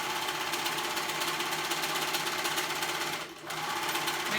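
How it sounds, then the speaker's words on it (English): Sewing machine stitching the side seam of a pair of joggers, a fast, even mechanical whir running steadily at moderate level, dipping briefly near the end. "So we're gonna sew that whole side shut together."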